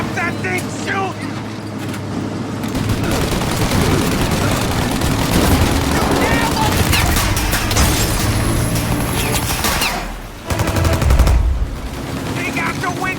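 Sustained machine gun fire in Mafia Definitive Edition rattles on loud and dense, mixed with explosions, vehicle noise and shouting voices, then a brief lull before bursts resume.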